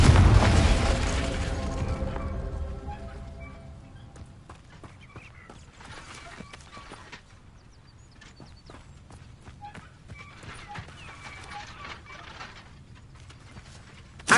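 A Confringo fire spell blast in the video game Hogwarts Legacy bursts loudly at the start and fades, followed by scattered sharp pops and clattering impacts.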